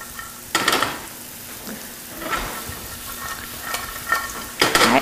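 Walnuts toast in a hot pan beside a wild rice pilaf, giving a soft sizzle broken by a few sharp scraping stirs and clinks of utensil on pan, heard up close and with no talking.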